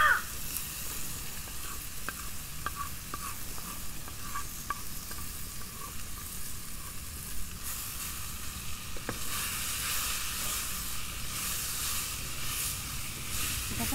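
Marinated fish sizzling in a hot pan in a Bengali village-style kitchen, a continuous close hiss of frying with a few light scrapes and clicks, no talking.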